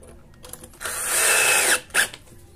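A power drill drives a screw to fit a hinge on a cabinet door, with a whining burst of about a second, a brief pause, then a short second pulse, close and fairly loud.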